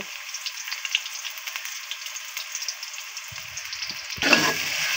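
Onions fry in a pan on a gas stove with a steady, bright sizzle close by, and a louder hissing surge near the end as the pan is stirred or disturbed.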